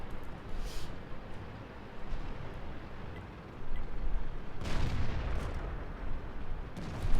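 Artillery fire in World of Tanks, two distinct booming shots separated by several seconds, heard over a constant low rumble of battlefield and engine noise.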